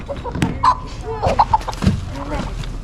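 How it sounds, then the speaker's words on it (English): Chickens cluck in short, scattered bursts at close range, with faint voices in the background. "Are these the winning chickens, Ransom?"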